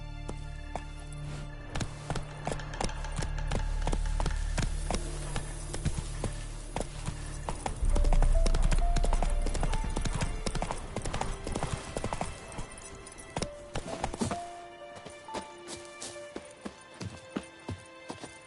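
Roach the horse's hooves clip-clopping steadily in The Witcher 3, a rhythmic run of hoofbeats that grows louder and busier midway, then thins out toward the end.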